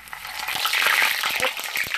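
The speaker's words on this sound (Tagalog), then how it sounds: "Frozen na lumpia ang piniprito ko." Frozen lumpia sputter in hot oil with a dense, crackling sizzle and scattered pops, loud and close throughout the short stretch.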